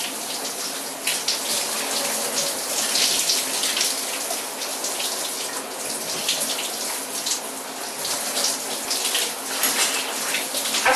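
Water runs steadily from a shower or tap while someone washes their body, a continuous dense hiss and splash that stays loud and close for the whole stretch, with no voices.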